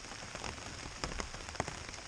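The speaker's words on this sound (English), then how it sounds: "Rain should be steady until about noon." Steady rain falls on a hiking trail in Vermont, a constant close hiss of drops with a few sharper, louder splats standing out, and no voices.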